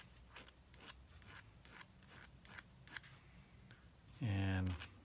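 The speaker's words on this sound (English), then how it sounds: "I just get a little file and take off the burrs" A small file rasping burrs off the edges of a guitar pick, a series of short, evenly spaced scraping strokes up close, followed by a louder, sustained buzzing noise near the end.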